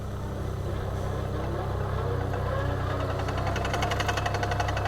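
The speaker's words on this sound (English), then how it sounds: "I'm going to start my plow." A Vermeer PTX40 plow/trencher diesel engine cranks and settles into a steady, loud, close rumble with a rhythmic knocking pulse, continuous throughout with no talking.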